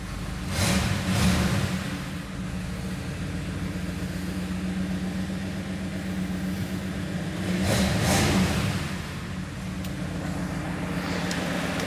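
A 1959 Ford Skyliner Retractable starts cold in a shop and settles into a steady, chugging idle, with two brief louder revving swells as the engine runs on.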